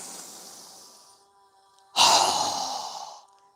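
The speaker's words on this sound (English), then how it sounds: "So go ahead and inhale. strong exhale." A strong exhale in a yoga breathing exercise comes through as a soft airy inhale followed, after a brief pause, by a forceful, close, breathy outbreath that fades over about a second.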